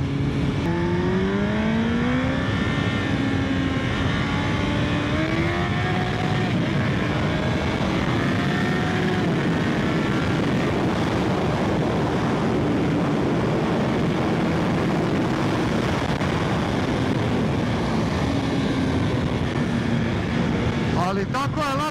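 A Kawasaki ZZR 1400 motorcycle engine drones loudly and continuously during a ride, its pitch rising through the gears in a few upward sweeps under a rider's steady talk.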